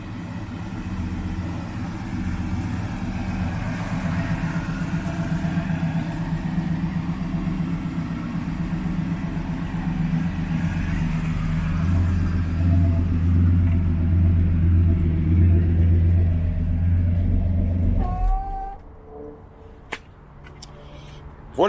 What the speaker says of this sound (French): Et un moteur qui tourne bien, très régulier, très doux.